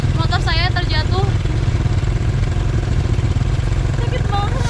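A motorcycle engine runs steadily on a slippery red-earth dirt road in the rainy season, a loud, close, continuous low drone, with speech-like voices rising briefly over it.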